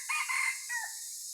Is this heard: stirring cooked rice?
no